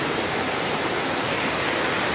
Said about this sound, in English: Coming at y'all live from inside of a waterfall kind of thing going here.